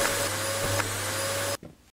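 Steady whine of a vacuum cleaner in a house-cleaning video game, loud and continuous with a brief sucking catch midway, cutting off sharply near the end with a short clatter.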